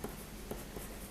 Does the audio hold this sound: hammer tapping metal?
no